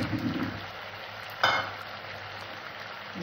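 Chicken curry meat frying in a pan, cooked without onion or garlic: a soft, steady sizzle runs throughout, broken once by a brief clatter of a utensil.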